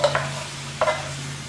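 Canned mushrooms are stirred into a cooking pan with chicken soup, producing two short scraping, sizzling stirs close by over a low steady hum, with no talking.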